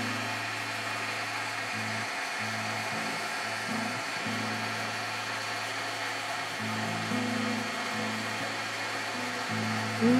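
An embossing heat tool blows a steady whining hum as it melts embossing powder through a stencil, continuous and close with slight pitch shifts.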